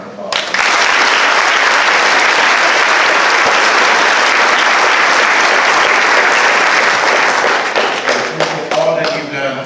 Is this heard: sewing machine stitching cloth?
no